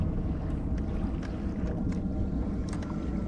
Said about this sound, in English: There's a couple other boats around us right now.